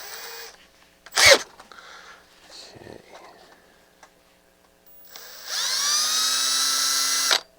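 A drill is spun up on an aluminum rivet being drilled out of a Pioneer PL-8 turntable during repair, a brief handling clatter and then a loud rising high whine near the end.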